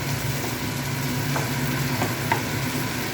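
Tomatoes and onions stir-frying for egg tarka, a dense steady sizzle close up with a few light spatula taps and stirs, no voices.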